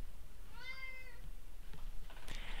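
A pet cat gives a single drawn-out meow near the middle, fairly faint against steady room noise, followed by light rustling and a few soft knocks.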